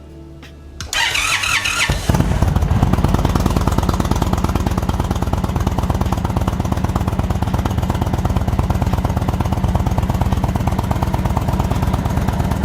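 A 2022 Indian Chief Dark Horse motorcycle fires up for the first time: a brief starter crank, then the engine catches and settles into a loud, steady, close rumbling idle with no talking.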